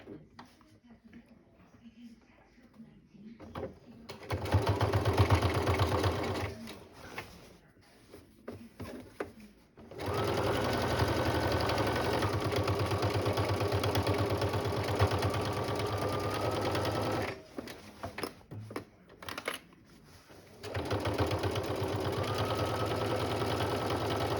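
A sewing machine stitches a seam in bursts of steady, rapid mechanical whirring, several seconds each, separated by quiet pauses.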